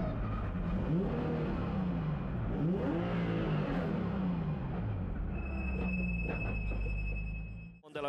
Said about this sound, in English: This car is probably the most technologically advanced drift car